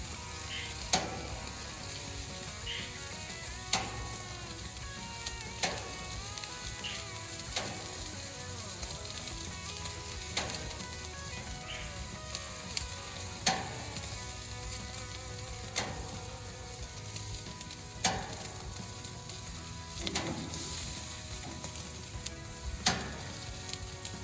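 New York steaks sizzle steadily on a grill, a dense continuous crackle with sharp pops and clicks breaking through every few seconds, close and fairly loud, with no voices.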